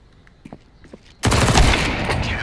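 Sudden burst of AK rifle fire in Counter-Strike 2 on the Mirage map, a loud, rapid fusillade of shots that erupts after quieter footsteps and clicks and then rings on with reverberant echo.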